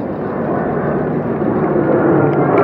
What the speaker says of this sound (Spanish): Un helicóptero E-135 del Servicio Aéreo de la Guardia Civil.